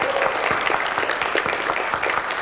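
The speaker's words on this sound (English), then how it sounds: "Everybody, big round of applause." Sustained applause from a convention panel audience at DragonCon 2024, a dense wash of many hands clapping steadily and fairly loud throughout with no talk over it.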